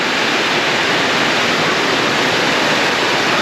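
Heavy tropical rain pours down during the rainy season in Trat, Thailand, a dense, unbroken hiss and roar close by, loud and steady with no voices.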